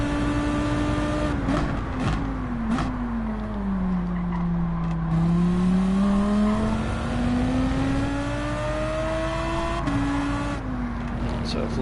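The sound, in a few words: race car braking and revving in Gran Turismo 7 video game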